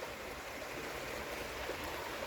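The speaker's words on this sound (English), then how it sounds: "Another little channel to control the flow of water." Water runs steadily through a small weir channel on Bradshaw Brook, a constant broadband rushing and trickling that stays even and close throughout, with no voices.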